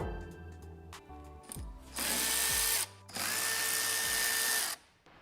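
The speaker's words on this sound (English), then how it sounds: "We'll remove these two bolts and then this panel should come off." A power tool backs bolts out of a panel during a Greenteeth Reverse-S wheel installation, with short ratcheting bursts and clicks, then two long loud whirring runs of the drill, close and without speech.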